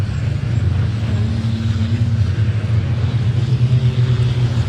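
Racing trucks at the British Truck Racing Championship at Pembrey, a loud continuous low engine rumble and drone with a steady, slightly shifting tone, no voices.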